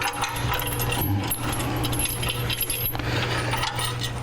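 Metal bolts and washers for a Go Rhino front bumper install on a Jeep Wrangler JK clink and jangle as they are handled, light metallic rattles close up over a steady background hum, with no voices.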